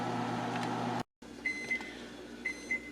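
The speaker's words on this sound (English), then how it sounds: "in the microwave, as you can hear in the background, I'm pre-cooking 3 large carrots" A microwave oven hums steadily while pre-cooking three large carrots, then stops briefly before the quieter run ends with a few short high beeps.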